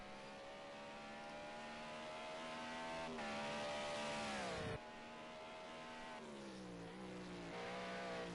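A BMW Z4 GT3 race car in Project Cars 2 at Imola, its engine droning steadily at high revs with shifting pitch as it drifts through a corner, a sharp drop midway before revving again, heard alone and fairly quiet.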